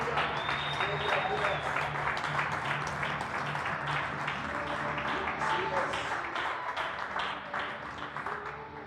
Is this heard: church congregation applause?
yes